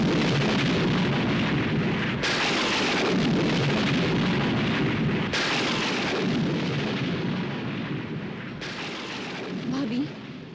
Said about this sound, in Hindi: लगता है तूफान आने वाला है